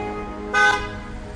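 A single short car horn toot rises over the steady background hum of busy street traffic near a folk market on Jeju island.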